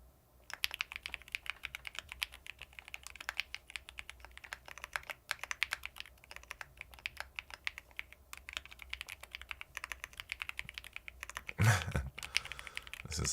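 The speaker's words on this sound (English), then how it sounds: "Let me do the daily typing challenge." Rapid clicking of a computer keyboard during a timed typing challenge, dense irregular keystrokes close to the mic, fairly quiet, with a brief louder bump near the end.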